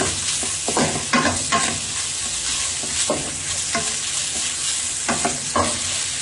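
Chicken fried rice stirred and frying in a pan: continuous sizzle with repeated scraping strokes of a utensil at irregular intervals, close and fairly loud, no voices.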